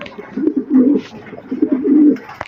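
Fancy racer pigeons of a local breed coo in soft, throaty rolling phrases, two clear bursts close by with a short lull between, no voices.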